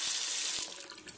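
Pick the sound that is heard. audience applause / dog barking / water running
water running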